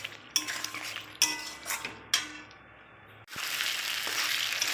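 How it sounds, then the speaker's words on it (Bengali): Kakrol (spiny gourd) frying in mustard oil, stirred in a pan: sharp sizzling bursts with each toss, a few scraping clinks of a utensil against the pan, then a steady loud hiss settling in alone. "এবার ভাজা কাঁকরোলগুলো দিয়ে দেব।"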